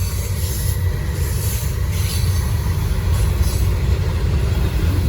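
A heavy Norfolk Southern freight train rumbles past at close range in Gaffney, South Carolina, a steady loud roar of wheels and railcars with faint metallic squeal above it, no voices.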